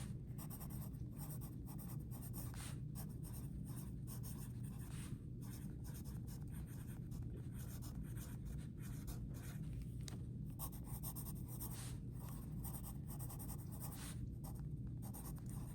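A pen writes steadily on paper, looping strokes scratching close and clear in a continuous run, with a low steady room hum underneath and no talk.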